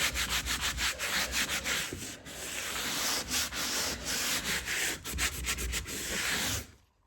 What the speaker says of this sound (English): My radial sander won't get this low, so I can sand out the areas that I've edged.